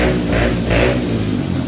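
Loud motorcycle engines roar close by, a thick, rumbling drone with revving swells as they pass.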